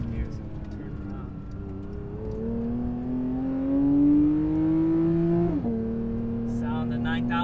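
A Porsche 992 GT3 engine revs to 9000 rpm with a rising, sustained high-pitched wail, climbing steadily before a quick drop as it shifts; loud and close.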